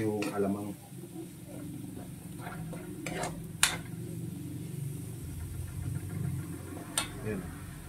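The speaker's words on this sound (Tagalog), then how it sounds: "Lutuin muna natin yung alamang." Alamang shrimp paste cooking in a pan for Bicol Express, a quiet sizzle under soft stirring with a few sharp utensil clicks against the pan, fairly faint and close.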